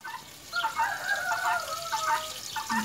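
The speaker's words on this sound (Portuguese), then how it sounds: "Focar os patos que fica solto aqui na frente." Free-roaming ducks pecking at corn in a yard, with clustered honking and quacking calls repeating in short bursts at close to moderate range and no talking.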